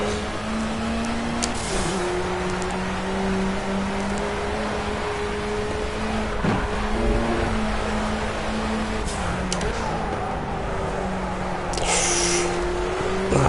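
Sierra Cosworth touring car engine in the racing game Project CARS, a steady droning hum holding pitch with slight rises and dips and brief gear-change blips, loud and continuous throughout.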